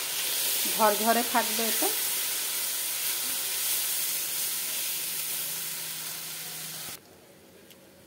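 Hot water hits the hot pan of suji upma with a steady, loud hiss and sizzle of steam lasting several seconds, then cuts off abruptly; someone speaks briefly near the start.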